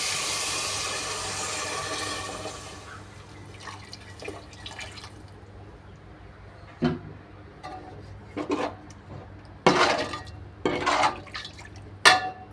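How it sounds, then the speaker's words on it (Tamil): Water is poured into a pan of bitter gourd kara kuzhambu, a rushing pour at first that gives way to scattered drips, splashes and clinks of a utensil against the pan. "இப்போ வந்து தண்ணி ஊற்றிக்கலாம்."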